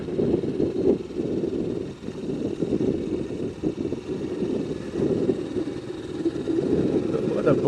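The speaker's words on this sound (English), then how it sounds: "will my voice be heard above the clatter of the engine of the wee C15?" Engine clatter from a small BSA C15 motorcycle on a ride out to a dam, a low steady running drone mixed with wind buffeting, while a rider talks over it.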